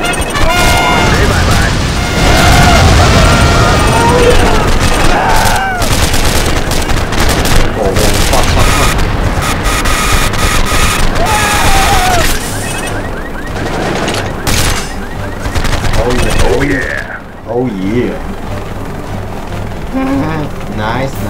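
Gunfire in the game Choplifter HD sounds as loud, dense bursts of shots and crashing impacts over a busy game soundtrack, with someone talking over the action.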